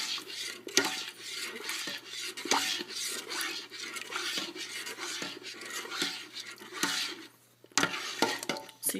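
A thickening tapioca dessert stirred in a pot, quiet repeated scraping and rubbing of a spoon against the pot in an uneven rhythm.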